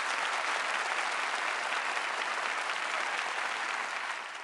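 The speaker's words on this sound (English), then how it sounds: "Go ahead, give yourselves a round of applause." A crowd gives itself a round of applause, thick, even clapping from many hands that holds steady and then begins to taper off near the end.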